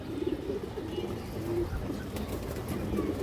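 A lively female pigeon of an old-pattern breed coos in low, repeated, rolling phrases, close and steady, with faint chirps and rustling around it.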